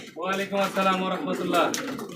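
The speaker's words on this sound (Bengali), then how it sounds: "চারিদিকে কবুতর আছে দেখছেন" Pigeons at a pigeon farm coo softly in a short burst of repeated, throaty calls, with a voice talking close by.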